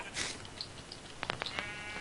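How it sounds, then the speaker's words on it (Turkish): Sheep in the Minecraft video game give a few faint, thin bleats in quick succession, low in the mix over a soft game background with no speech. "Ben koyun kesiyorum şimdi."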